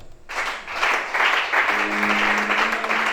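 Congregation clapping and applauding during a church worship service, a dense burst of hands starting abruptly and sustained for a few seconds, fairly close, with a faint sustained tone underneath.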